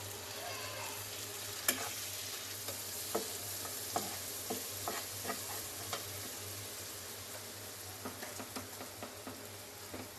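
Green chilies frying in a pan for egg bhuna, a quiet continuous sizzle with scattered light ticks and stirring taps, close by and without talk.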